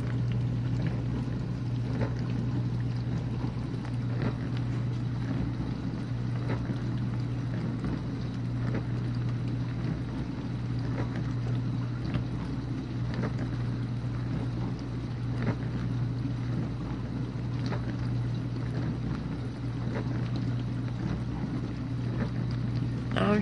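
A Whirlpool dishwasher running its normal wash cycle with heat dry gives off a continuous low hum and steady water swishing at a constant level, close and unbroken, with no talking.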